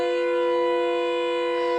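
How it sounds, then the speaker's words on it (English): A loud, sustained warning siren in the horror game Siren Head wails on a single steady tone, constant and close. "Is that a warning siren?"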